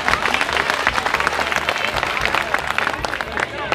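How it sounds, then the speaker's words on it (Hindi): A crowd at an outdoor sit-in protest by instructor teachers in Uttar Pradesh bursts into vigorous applause welcoming Professor Sandeep Pandey: dense, brisk clapping from many people, loud and continuous, with crowd voices mixed in. "एक बार जोरदार तालियों से उनका स्वागत कीजिएगा।"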